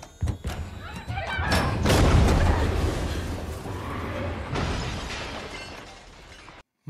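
Grenade blast from an episode of The Expanse, a sudden loud explosion that swells into a long roaring, crackling rumble and slowly fades, preceded by sharp thumps and followed by silence.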